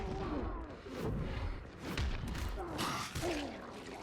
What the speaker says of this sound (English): He actually just pounded the ground.